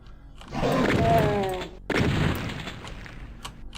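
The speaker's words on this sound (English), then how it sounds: "Exploding barrels are very nice because they let you turn enemies into piles of gore." Exploding barrels in the game The Ultimate Doom: two loud, booming blasts about a second and a half apart, the first with a rumbling tail and the second sharper, each fading into a lingering low roar.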